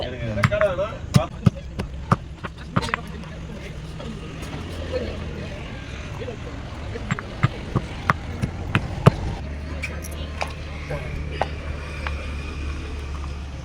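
Repeated sharp pounding knocks of a mortar and pestle crushing pepper, garlic, curry leaves, cumin and dried chillies, irregular then sparse, over a low background hum with some murmuring voices.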